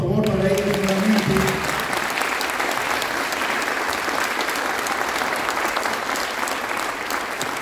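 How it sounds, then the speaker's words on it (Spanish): Strong crowd applause for a group of girl performers at a music event, starting under a brief trailing voice and then continuing as dense, steady clapping that slowly eases. "Un fuerte aplauso, por favor, para ellas nuevamente."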